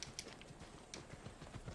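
A horse's hooves clip-clop in the Assassin's Creed Odyssey video game, a quick, faint, steady gallop rhythm with soft thuds repeating throughout.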